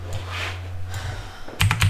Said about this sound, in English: we'll just be typing all this in